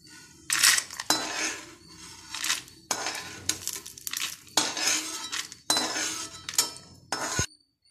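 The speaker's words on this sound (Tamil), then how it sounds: "இப்போ இதை வந்து ஒரு தட்டில் தனியாக எடுத்து வச்சுக்கோங்க." Roasted ridge gourd is scraped from a pan onto a plate in repeated bursts of metallic scraping and clinking, with close spoon-on-metal knocks and short pauses between them and no talking.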